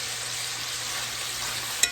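Bacon frying in a pan for lima bean soup, a steady close hiss and crackle, with a faint click near the end and no talk.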